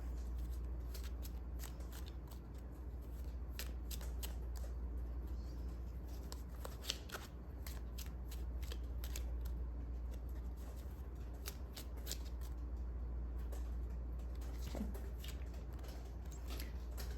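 Tarot message cards are shuffled near and alone, a steady soft riffling and flicking with scattered sharper card snaps running the whole time over a low room hum, no voices.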